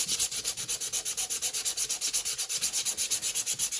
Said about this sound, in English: grab your sanding, whatever sanding block you have